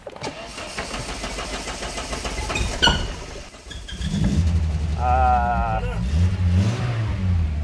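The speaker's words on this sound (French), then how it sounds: "Ça démarre. Eh, ça démarre." A Peugeot 405 car engine cranks with a rapid rhythmic churn, then catches and settles into a steady, fairly loud idle up close, while people speak over it.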